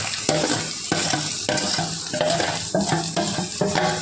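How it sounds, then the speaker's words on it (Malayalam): Chopped onion, tomato and green chilies are sautéed in a pan, a steady sizzle broken by about eight regular scraping stirs of a spoon against the metal, close and fairly loud. "സവാള തക്കാളി പച്ചമുളക് ഇതെല്ലാം അരിഞ്ഞ് വെച്ചിട്ടുണ്ട് അത് നമ്മൾ ഇതിനകത്തോട്ടിട്ട് നല്ലതുപോലെ വഴറ്റണം"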